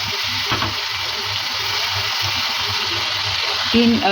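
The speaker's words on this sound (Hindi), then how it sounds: "अब हम यहाँ पर ऐड करेंगे पुलाव की यखनी।" Chicken yakhni stock poured into a pan of hot pulao gravy gives a steady, loud sizzle and bubbling hiss, with soft stirring knocks and a brief clatter near the end.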